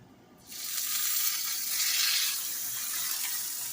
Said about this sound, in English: Now I'm going to brown them in a cast iron skillet, about 2 minutes aside.